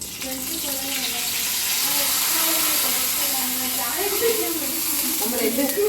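A loud, steady sizzling hiss as hot oil with fried mustard seeds is poured into a Malabar chicken curry, with a voice talking over it throughout.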